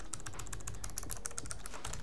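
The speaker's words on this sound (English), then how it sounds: "These are both optical mechanical keyboards." Rapid typing on the optical mechanical keyboard of an ASUS ROG gaming laptop, a steady run of crisp, close keystroke clicks with no voices.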